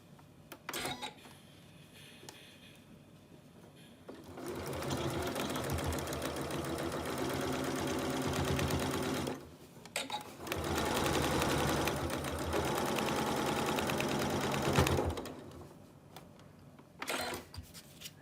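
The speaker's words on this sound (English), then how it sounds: "Taking it back to the sewing machine, we're going to top stitch now all along the edge" A sewing machine top-stitches along the edge of a fabric face mask in two long, steady stitching bursts, a fast mechanical whir with brief pauses and handling clicks between.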